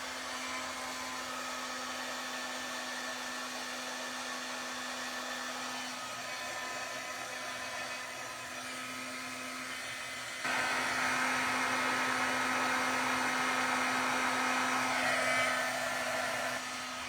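A heat tool runs steadily for the whole stretch while warming stamped paper craft flowers, a constant close blowing whir with a tonal hum that grows louder and brighter partway through as the tool shifts closer.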